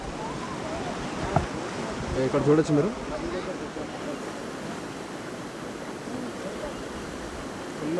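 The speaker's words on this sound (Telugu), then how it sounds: "చూడండి ఇక్కడ నది ఎంత ఫాస్ట్గా వెళ్తుందో." Fast-flowing river in the Himalayan foothills of Uttarakhand, a steady broad rushing roar throughout, with a person speaking briefly over it and some wind buffeting the microphone.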